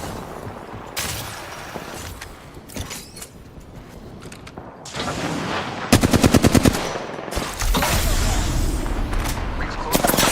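Rapid automatic gunfire in an Apex Legends match comes in sharp bursts, including a crisp rattling volley midway, mixed with impacts, mechanical clatter and a voice speaking.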